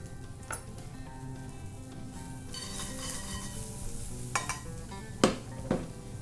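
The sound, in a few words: onions frying in a pan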